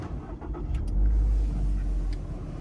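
A 2025 Toyota GR86 Premium engine starts and settles into a steady, loud low rumble at idle close by, with no talking over it.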